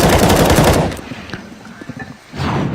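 Gunfire from a Counter-Strike match between FaZe and Fnatic at the ELEAGUE Major Boston 2018: a loud burst of rapid automatic fire, then scattered single shots and clicks, then another sustained volley.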